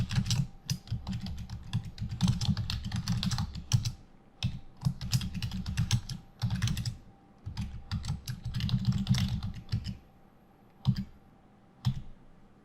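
Fingers type on a computer keyboard in quick runs of close, crisp key clicks with short pauses between bursts, ending in a few isolated taps.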